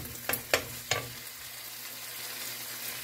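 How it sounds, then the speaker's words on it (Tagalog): Garlic, onion and tomato sautéing in a pan while a spoon stirs them: three quick scraping clacks near the start, then a soft, steady sizzle carrying on alone. "nagisa na tayo guys ng bawang"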